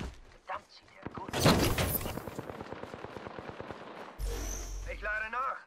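Gunfire in the video game Apex Legends arena mode: a loud burst followed by a rapid run of automatic shots, then a heavier blast and whirring effects, with a player's voice speaking over parts of it.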